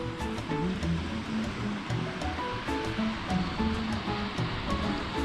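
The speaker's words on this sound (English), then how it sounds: "Little mini waves." Small waves lapping and washing onto the shore at Espiritu Santo Island, a continuous gentle surf with soft breaking rushes, close by and with no voices.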